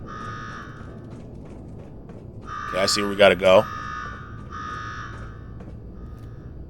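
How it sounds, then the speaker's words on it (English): A harsh buzzing alarm in a video game sounds in short repeated tones, swelling into a louder, denser burst midway, with someone talking over it. "Now go shut off that damn alarm."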